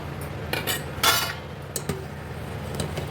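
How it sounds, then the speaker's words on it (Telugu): A spoon stirs custard and milk powder into boiling milk in a pan, with repeated scraping clinks of metal against the pan over a steady bubbling background hiss. "ఇందులో మనం కలిపి పెట్టుకున్న కస్టర్డ్ అండ్ మిల్క్ పౌడరు ఇది ఇందులో పోసి కలిపిద్దాం"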